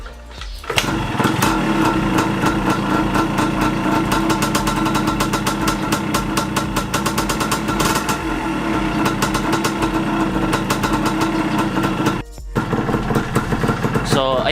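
A Yamaha DT125 motorcycle engine idles loud and close, a steady buzzing drone that runs nearly unbroken for the whole stretch, with one brief dip near the end.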